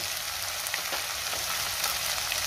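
Tomato masala fries in oil in a pan as spice powders such as turmeric go in, giving a steady, soft, crackling sizzle throughout with occasional faint pops and no voices.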